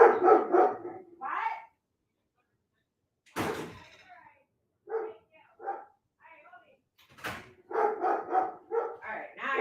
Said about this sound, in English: Alright, now I know what he's barking at.